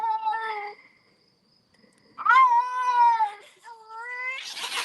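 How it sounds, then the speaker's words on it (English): Two cats yowl and growl at each other in drawn-out, wavering caterwauls, loud and close, with a short pause between bursts and a hissing spit at the end. "we're gonna have some cat growling here"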